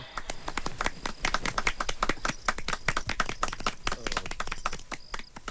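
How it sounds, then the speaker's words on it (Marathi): An audience applauds at a Marathi gathering: a dense, steady patter of many hands clapping at close range, sustained evenly throughout with no voices. "टाळ्या"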